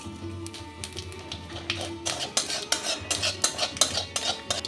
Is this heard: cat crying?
no